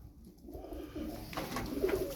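Soft, low tumbler pigeon coos sound close by, a few gentle murmuring calls over quiet background noise.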